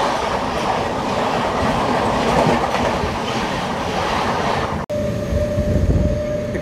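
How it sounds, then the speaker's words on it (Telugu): Bangalore–Bhubaneswar Prashanti Express train running at speed, loud steady rumble and rattle of wheels and carriages up close, briefly cut then resuming with a sustained tonal whine over the rolling noise. "బెంగళూరు భువనేశ్వర్ ప్రశాంతి ఎక్స్ప్రెస్."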